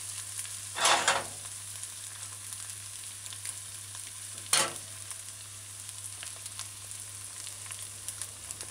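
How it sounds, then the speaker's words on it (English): An egg fries on a stovetop for a grilled egg and cheese sandwich. A steady, quiet sizzle runs throughout, broken by two brief scraping bursts as the spatula flips the egg. "you just use your spatula and flip the egg on the other side"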